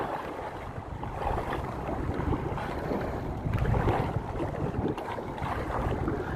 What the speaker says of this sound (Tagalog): Nagpahirap lang ang hangin